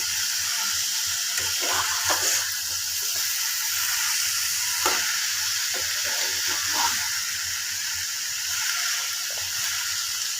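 Prawns and banana flower stirred in a hot pan, a steady dense sizzle of frying with a few soft scraping strokes of the spatula, loud and continuous throughout.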